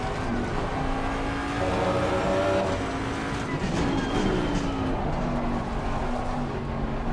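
GT3 Mustang race car in a racing video game, its engine revving and whining as the car spins on the track, with steady loud engine tone that rises and falls against tire and track noise and no voices.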